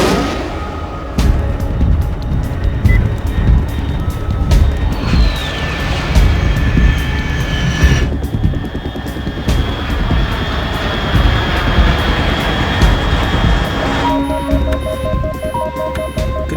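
An aircraft flies overhead in Metal Gear Solid 3, a loud, continuous engine roar and rumble that stays steady throughout, with faint tonal game effects layered over it and no speech.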